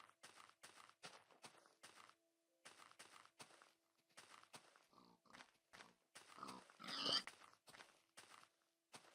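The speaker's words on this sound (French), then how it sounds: "Encore les cochons." Repeated pig grunts and oinks from the video game Minecraft come in short, closely spaced bursts at moderate level, with a few brief gaps and a slightly louder cluster near the end.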